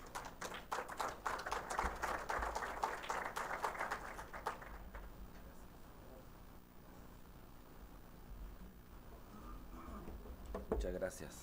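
Applause from an audience at a conference on electromobility in Antofagasta, a few seconds of clapping that fades out, then a quieter room with a voice speaking.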